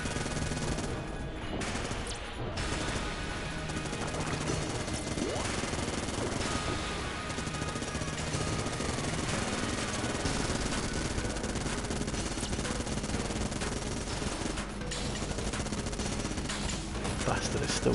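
Rapid Vulcan Cannon gunfire from the Enter the Gungeon video game rattles nonstop under a dense layer of game music and effects, with a couple of sharper bursts near the start.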